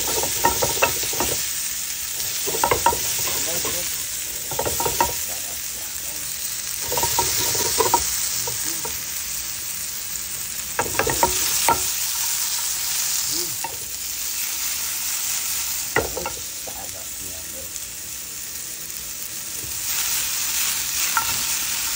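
Sliced onions sizzle steadily in a hot pan while a utensil stirs them, producing repeated scraping clatters over the continuous frying hiss, loud and close with no voices.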